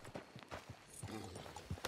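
Horse hooves clip-clop at a walking pace in Red Dead Redemption 2, a handful of faint, evenly spaced hoof falls heard alone at low level.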